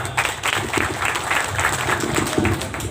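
Audience at a political party meeting breaking into steady applause, many hands clapping together for the whole stretch, moderately loud with a crowd murmur beneath.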